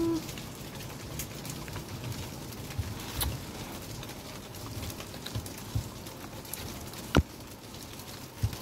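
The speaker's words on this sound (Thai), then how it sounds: "raining" Steady rain falls outdoors with a soft continuous patter and a few sharper drip hits, moderately quiet with no talking.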